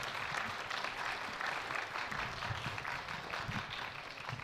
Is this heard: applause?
yes